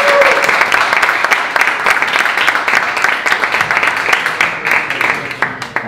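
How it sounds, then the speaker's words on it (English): An audience at a Startup Grind event in Bratislava gives a sustained round of applause welcoming two speakers, with dense overlapping clapping that fills the room and fades slightly toward the end. "let me welcome Peter and Martin Velits with a round of applause"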